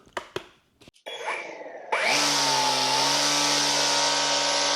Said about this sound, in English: It has a high-speed, variable speed, brushless motor.